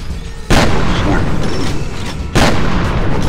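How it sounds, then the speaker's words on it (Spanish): Two loud, close grenade blasts go off in the shooter game F.E.A.R., each a sudden broadband boom about two seconds apart, followed by a sustained rumbling wash of noise. "Granada."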